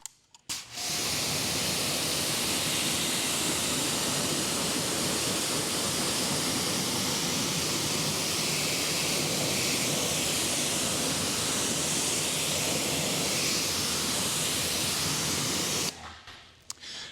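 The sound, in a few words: rinsing wheel cleaner off car wheel with water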